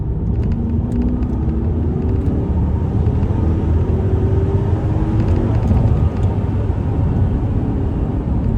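A Mercedes-Benz CL500 floored along country roads, its engine a loud, continuous low rumble with rising tonal drone and heavy road and wind noise throughout, no talking.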